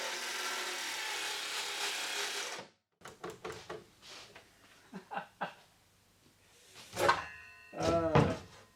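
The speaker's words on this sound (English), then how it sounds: "But my circular saw had some other plans." A battery-powered circular saw cuts through an old wooden cabinet, whining loudly and steadily for a few seconds before abruptly stopping when the battery dies, followed by quieter handling noises and a person talking.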